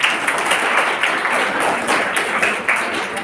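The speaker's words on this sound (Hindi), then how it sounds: "ताली बजाओ।" A seminar audience of students claps together in a dense, sustained round of applause that fills the room at close range.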